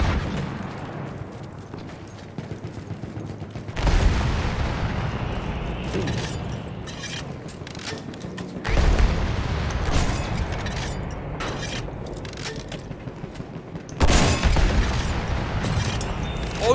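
Anti-tank rocket gun fire and explosions in a video game: three loud, sudden booming blasts spaced about five seconds apart, each fading into a rolling rumble over continuous battle noise.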